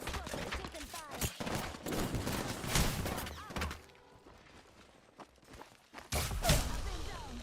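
Video-game gunfire pops in rapid, loud bursts, fading to a quieter lull midway before another burst of shots returns near the end, with a voice speaking over the action.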